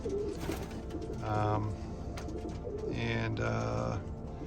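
Racing pigeons coo in a loft, soft low rolling calls repeating twice close by over a background of faint rustling and ambient noise.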